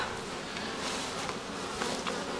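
Honeybees buzzing at the entrance of a swarm hive where dead bees lie on the ground, a dense steady hum close by and unbroken throughout, with no talk.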